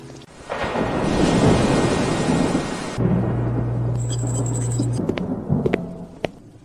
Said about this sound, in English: This rain won't stop anytime soon.